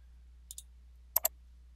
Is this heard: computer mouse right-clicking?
yes